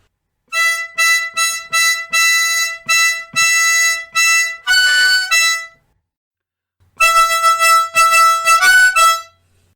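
Blues harmonica riff, a series of short punchy blown and drawn notes in a bouncing rhythm, a brief bent chord in the middle, then another burst of clipped notes; close, loud and solo.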